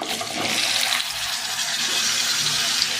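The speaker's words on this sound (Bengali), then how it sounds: "এবার তেলের ওপর দিয়ে দেবো চিচিঙে," Snake gourd, onion, tomato and green chilli hit hot oil in a pan, giving a loud, steady hiss and sizzle that runs evenly for a few seconds with no talk.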